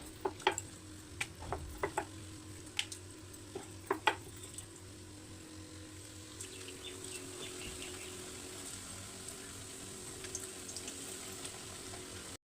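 Luchi, rolled puris of mixed atta and maida, frying in hot oil: a quiet, steady sizzle with scattered sharp pops and ticks, louder early on and settling into a soft hiss.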